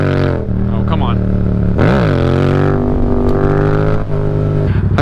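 A motorcycle fitted with a new air filter revs loudly up close, its engine droning steadily with a sharp rise and fall in pitch partway through and a rough, throaty tone.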